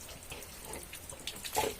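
A household tap runs water in a short, steady splashing stream, near and moderately loud, with a brief stronger gush toward the end.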